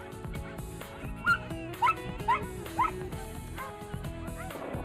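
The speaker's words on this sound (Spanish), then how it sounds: "acompañados de los ladridos del resto de canes que forman la mano" Several dogs in a greyhound hare-coursing pack bark and yip in short bursts, about four sharp calls in a row, over a dense mix of music and background noise.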